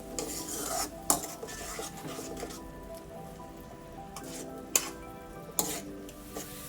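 Tomato paste with ginger garlic paste frying in oil in a pan, a soft steady sizzle with occasional sharp clinks of a spoon stirring against the pan.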